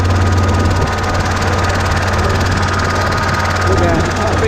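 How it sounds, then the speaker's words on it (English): A big old diesel rig engine runs loud and steady close by, a constant low droning rumble with a faint knocking throb throughout. "Big old diesel rig, isn't it?"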